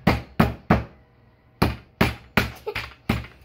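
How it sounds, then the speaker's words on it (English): A hammer pounds steak on a mat while making steaks, giving seven loud, sharp thuds with bright ringing tails, three quick blows, a short pause, then four more in steady rhythm, close up with no voices. "Grab the hammer and smash it around."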